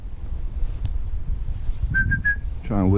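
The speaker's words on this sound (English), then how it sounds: "Try and whistle with a pipe in your mouth." Someone whistles a few short notes with a pipe held in the mouth, outdoors by a river over a low rumble, ending in a rising slide as a voice cuts in.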